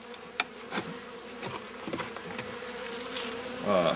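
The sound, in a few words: honey bees buzzing during hive inspection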